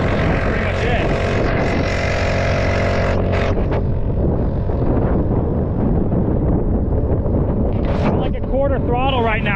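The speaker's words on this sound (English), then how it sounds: "The wind's just picking up and the rain's starting to come down a little bit more fierce." Gusting wind buffets the microphone during a ride on a fast 4-stroke vehicle as rain starts to fall, a loud rushing roar over a high revving engine whine, with a voice speaking over it.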